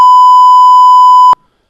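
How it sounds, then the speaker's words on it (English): A steady television calibration beep tone, the kind played alongside color bars, sounds alone and loud as one continuous pure pitch for over a second before cutting off abruptly into silence. "the beep tone that is used in television to like calibrate TVs and stuff"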